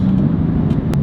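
A BMW M4 LCI Competition with M Performance Parts on the move, giving off a steady low engine rumble with faint road noise, continuous and fairly loud.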